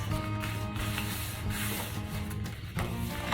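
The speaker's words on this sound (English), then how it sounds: "just gonna burnish that down real well" A tool rubs firmly back and forth over paper on a mini album page in a steady, close, soft scraping burnish, faint and continuous without talk.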